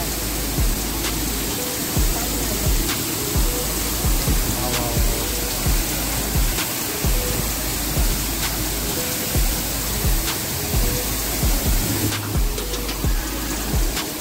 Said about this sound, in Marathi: 2 टप्प्यात पडणारा धबधबा आहे मित्रांनो.